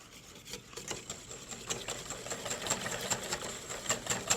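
A whisk beating soft fruit salad ingredients in a bowl, a close, continuous scraping and rattling with a quick repetitive rhythm that grows slightly louder over the few seconds.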